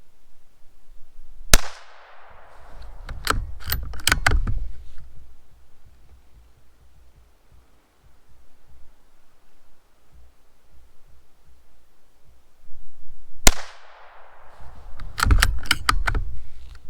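Savage Arms 93R17 rimfire rifle fired at a 25-yard target outdoors: two sharp, loud reports about twelve seconds apart, each followed by a cluster of clattering handling clicks, with quiet ambient noise between.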